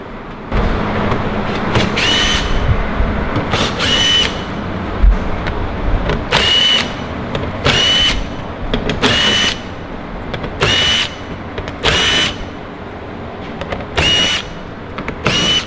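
A power drill backs screws out of the front lip on a Dodge Challenger during a front splitter install, in short repeated whirring bursts with pauses between them, loud and close and with no talk.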